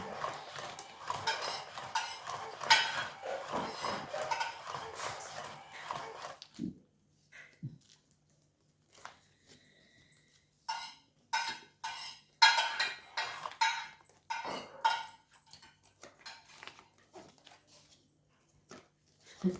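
A dog whimpers in short, thin whines amid clattering and shuffling, with quiet gaps between bursts.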